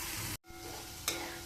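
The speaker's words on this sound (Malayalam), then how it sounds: "നമ്മുടെ ഇഞ്ചി ഇട്ട് ഇനി ഇത് വറുത്തെടുക്കണം" Ginger and garlic frying in hot oil, a bright continuous sizzle broken by a short gap and then a renewed burst of crackle, close and without talk.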